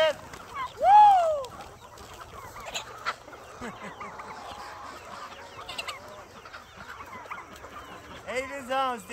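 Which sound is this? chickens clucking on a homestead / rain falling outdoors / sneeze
chickens clucking on a homestead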